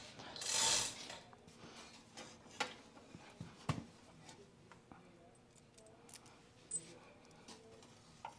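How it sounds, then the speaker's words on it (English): A hoist ratchet lifting a Sears snowblower in a garage makes scattered sharp clicks and mechanical clanks at irregular intervals, fairly quiet, with a brief louder hiss near the start. "Yeah, just using the hoist there."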